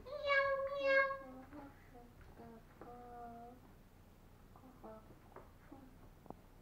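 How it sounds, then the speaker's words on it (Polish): A cat meows in a few short, high, clear calls at the start, then fainter meow-like cries follow amid soft background noise, with a voice nearby in a home setting. "Kotek!"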